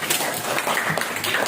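A classroom full of students claps together in a steady, dense patter that lasts the whole moment, loud and close, with no talking.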